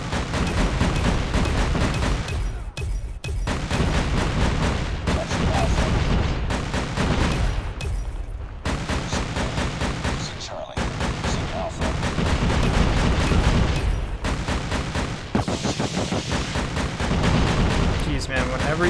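Rapid, booming rocket fire from the Type 25's secondary launcher in Call of Duty Mobile, with repeated heavy blasts and gunfire rolling almost continuously for many seconds, broken by brief pauses.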